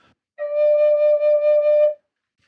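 A drone flute sounds a single sustained octave note on its low side, a clear, steady, breathy tone held for about one and a half seconds with a slight pulsing, then silence.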